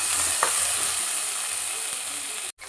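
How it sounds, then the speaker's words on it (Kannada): A handful of coriander leaves frying in a pan for mutton paaya soup, giving a loud, steady sizzle that fills the whole clip, with a brief stir knock near the start. "ಒಂದು ಹಿಡಿಯಷ್ಟು ಕೊತ್ತಂಬರಿ ಸೊಪ್ಪು, ಇದನ್ನು ಚೆನ್ನಾಗಿ ಫ್ರೈ ಮಾಡೋಣ."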